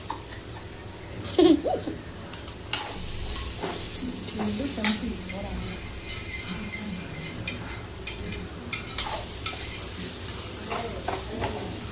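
Ghee and sugar heating in a pan for a milk bread roast, with a soft sizzle and occasional stirring scrapes under faint background voices.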